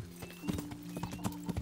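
Horse hooves clip-clop in the medieval video game Kingdom Come Deliverance, a brisk irregular run of hoofbeats at close range over a low steady background hum.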